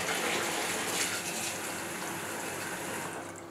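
Tap water gushes steadily into a pan as rice is washed in a kitchen, a close, loud, continuous rush that tapers slightly toward the end.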